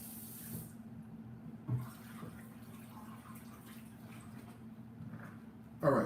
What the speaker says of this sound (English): Let me grab the veg that's over here rinsing.